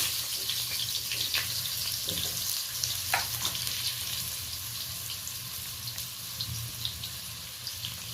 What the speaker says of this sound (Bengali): আলুটা ভেজে নেব। হালকা লালচে করে ভেজে নেব, অল্প লবণ হলুদ দিয়ে।